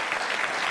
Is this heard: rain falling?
no